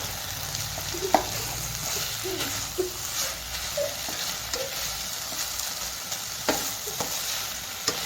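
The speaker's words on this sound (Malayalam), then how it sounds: "ഇത് നന്നായി ഒന്ന് ഇളക്കി കൊടുക്കാം." A spoon stirs ground coconut paste with cumin, garlic and turmeric into cooked drumstick leaves for thoran in a pan, giving a steady soft scraping and light sizzle with a few sharper knocks, close and continuous, no talking.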